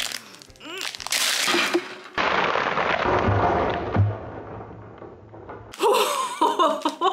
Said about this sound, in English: The whole bag exploded.